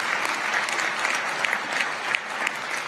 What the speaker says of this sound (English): you can give that a big round of applause